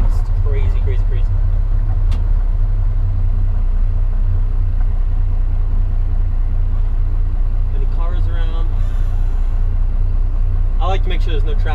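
Diesel truck engine roaring through a loud smoke stack exhaust, a heavy, constant low rumble that stays very loud throughout while people talk over it in short bursts.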